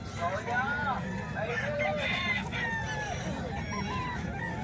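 Chickens brought from Bacolod cluck and crow repeatedly, close by, with a background murmur of people talking.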